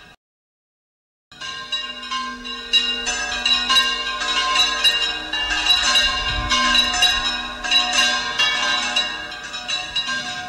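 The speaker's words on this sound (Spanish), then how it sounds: "Repican las campanas y se oyen cánticos religiosos" Church bells ring out after a moment of silence at a choral festival opening in Isla Cristina, Spain, overlapping peals sounding continuously with a full, resonant tone.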